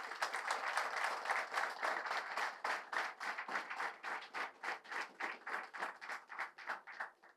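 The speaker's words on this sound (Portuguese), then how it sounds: "A todos uma salva de palmas." An audience claps for club officials at a squad presentation, a lively burst of applause that starts full and gradually thins into rhythmic, evenly spaced claps toward the end.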